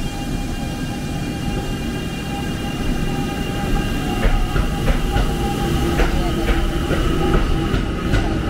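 Train pulling into a station in Ise, Mie Prefecture, Japan: loud steady rumble of rolling cars with rhythmic clickety-clack wheel beats growing more distinct toward the end, heard up close on the platform.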